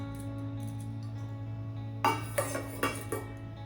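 A lid set down on a cooking pot of vermicelli simmering over a medium flame, heard as a few sharp metallic clinks and clatters over a steady low burner hum, with no talking.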